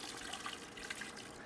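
Liquid pours gently down the side of a vessel during ale brewing, a soft, faint, continuous trickling and splashing heard close by.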